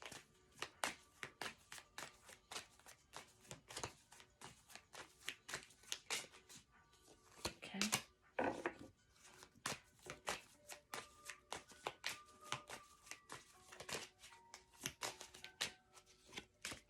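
Tarot cards are shuffled by hand close up, a rapid run of crisp riffling snaps and soft slaps repeating without pause through the whole stretch, quiet and intimate with no talking.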